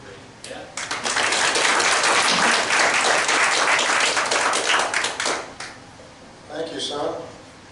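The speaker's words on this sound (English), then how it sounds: "So I hope you'll give him a good round of applause and listen." A room of people at a church meeting gives a hearty round of applause, loud, dense clapping swelling up quickly and holding for several seconds before fading, followed by a voice beginning to speak.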